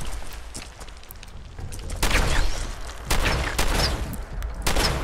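Several sharp, loud gunshots from a shotgun in the video game Fallout 4, spaced irregularly about a second apart over a noisy, busy background.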